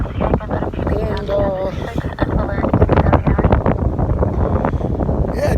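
Strong gusting wind from Hurricane Elsa roars and buffets the microphone throughout, steady and loud, with a voice talking faintly over it at times.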